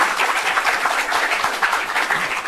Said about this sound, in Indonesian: Boleh kasih tepuk tangan.